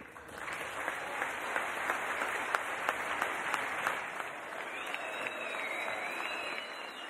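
Members of the US Congress give a standing ovation to Modi's speech, a dense, sustained roar of clapping hands that stays steady and even from start to finish.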